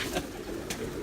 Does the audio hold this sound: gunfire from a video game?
no